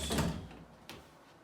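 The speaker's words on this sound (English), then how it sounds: "All right, so can these doors close?" A cabinet door closes during a house-flip walkthrough with a contractor, a short soft thud followed by a faint second knock, close by in a quiet room.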